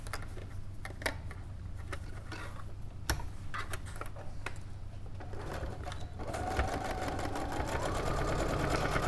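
Sewing machine stitching a seam on a Queeny bag, close up: a run of clicks and ticks that breaks into a steady, faster whirring hum for the last few seconds, with no talking.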